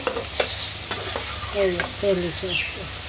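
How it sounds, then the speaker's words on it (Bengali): Spice paste with tomato paste and a pinch of sugar sautéing in oil gives a steady close sizzle, with a few sharp scraping stirs early on and some faint tonal chirps in the background. "মশলাগুলোকে অনেকক্ষণ কষানো হয়েছে"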